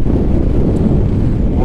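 Strong crosswind buffeting the microphone on a desert highway to Siwa Oasis while riding a scooter, a loud, continuous low roar throughout.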